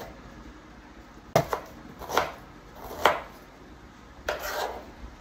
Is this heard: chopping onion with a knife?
yes